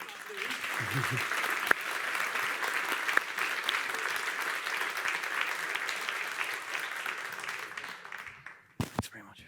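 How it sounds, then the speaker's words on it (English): Conference audience at a health summit applauding colleagues, a sustained, full round of clapping that holds steady for several seconds, then thins out and stops with a few final scattered claps. "A round of applause for our colleagues who did not leave."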